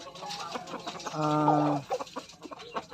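Chickens cluck nearby, with one drawn-out, tonal call rising out of scattered short clucks and background rustle; no talk is heard.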